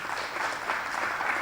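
Audience applause at an East African employability summit and career awards, a brief burst of dense, steady clapping from a crowd in a hall.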